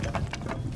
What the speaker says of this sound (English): Loading new mag.